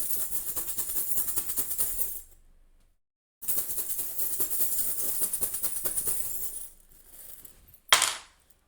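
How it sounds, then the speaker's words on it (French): Bright, dense jingling of small metal pieces shaken in two long bursts, then a short final shake after a pause. "les breloques pour les sons aigus, s'il vous plaît"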